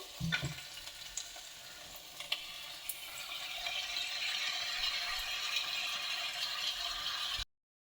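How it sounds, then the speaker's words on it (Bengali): Poppy seed paste added to drumsticks frying in a pan, a few clatters of the spoon at first, then a steady close sizzle that cuts off abruptly at the end. "এবার এর মধ্যে দেবো আমি এই পোস্ত বাটাটা"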